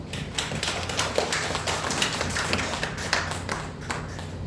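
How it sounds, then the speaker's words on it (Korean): Congregation applauding during a Sunday church service, a dense, steady patter of many hands clapping continuously, close and fairly loud, with no one speaking over it. "박수 한번 다시 한번 드립시다"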